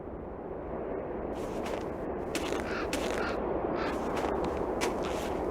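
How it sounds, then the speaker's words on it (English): In the video game Nancy Drew: The White Wolf of Icicle Creek, an explosion sounds as a sustained roaring, crackling rumble with scattered sharp bursts, loud and continuous throughout. "Sounded like an explosion."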